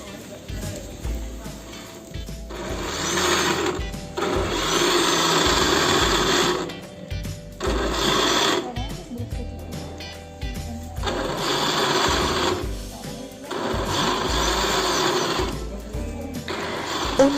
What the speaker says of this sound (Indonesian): Untuk memblendernya pelan-pelan saja, jangan dipaksakan.